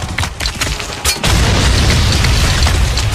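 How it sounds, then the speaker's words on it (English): A Humvee explodes in the Spec Ops video game: scattered sharp cracks lead into one heavy boom, then a dense, loud rumbling wash of debris noise that carries on to the end. "Humvee's destroyed."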